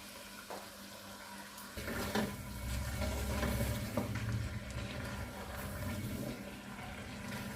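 Potatoes and mutton frying together in a pot for aloo gosht give a steady, dense sizzle that swells noticeably after about two seconds and holds fairly loud to the end, with no talking.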